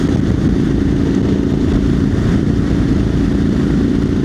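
A Royal Enfield Himalayan motorcycle rides across heather moorland, its steady mid-pitched engine drone loud and continuous with no talking.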